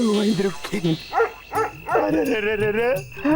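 A dog barks and yips in a series of short, loud, close bursts, ending in a drawn-out whine, in a housing society setting.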